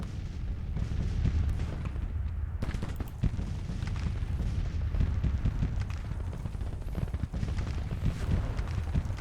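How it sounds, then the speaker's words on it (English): Artillery fire in a Civil War strategy game, heard as a dense, continuous low rumble of booming cannon shots and battle noise. A few sharper blasts stand out over the sustained roar, and nobody speaks. "So I'm going to target their artillery here with our own."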